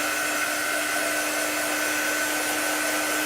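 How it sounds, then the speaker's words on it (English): A big air dryer blows steadily to dry chalk paint on a sunflower tray, a loud, constant whooshing hum with a faint tonal whine that runs unbroken throughout, with no voices over it. "May have to bring in the big guns, the big air dryer."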